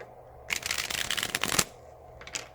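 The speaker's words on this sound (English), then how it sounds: "I'm going to keep shuffling while you do this." Tarot cards shuffled by hand, a dense riffling burst of about a second close to the microphone, then a short quieter flutter, with no talking.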